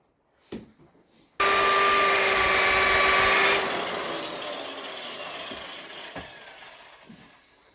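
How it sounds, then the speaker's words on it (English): Machine polisher buffing the custom paint on a Stratocaster body with G3 compound: a loud, steady whir starts suddenly after a few faint knocks, then eases into a softer, sustained hum under light handling sounds. "Yeah, it's polishing up nice now. All the fine scratches are coming out."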